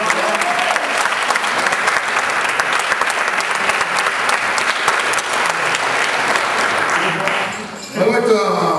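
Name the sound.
audience round of applause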